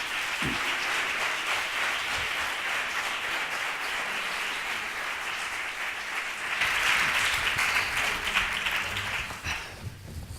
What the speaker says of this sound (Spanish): Y un aplauso fuerte para ellos.